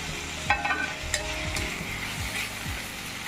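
Spiced food fries in a pan while a utensil stirs it. A continuous close sizzle runs throughout, with several clear scraping strokes at irregular intervals.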